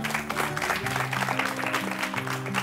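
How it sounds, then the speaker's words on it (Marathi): Studio audience applause on a Marathi game show, a steady dense wash of clapping running the whole time with a tonal musical or vocal layer beneath, no clear words. "जोरदार टाळ्या होऊन जाते सगळ्यांसाठी."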